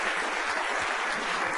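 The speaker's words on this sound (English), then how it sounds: "give him a big round of applause." A crowd claps steadily and densely throughout, a continuous wash of audience applause at a dinner theater show with no voices standing out.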